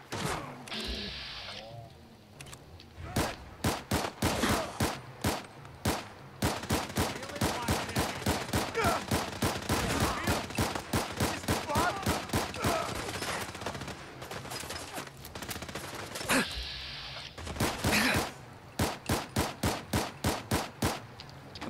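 Rapid gunfire from a weapon in the video game Fallout 4, with dense bursts of shots running almost continuously, broken by short pauses, loud and close.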